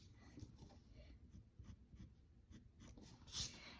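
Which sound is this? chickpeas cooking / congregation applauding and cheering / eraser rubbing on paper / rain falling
eraser rubbing on paper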